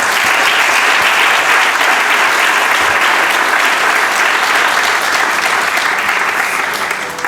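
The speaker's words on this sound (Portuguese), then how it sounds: "Uma salva de palmas para todos eles, por favor." A large audience at an authors' awards gala gives loud, dense, continuous applause that holds steady throughout before easing slightly at the close.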